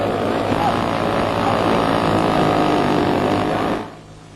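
A 1930s–1960s model airplane flies close by, taking off and stunting with a loud, steady propeller drone that holds for several seconds and then cuts off abruptly.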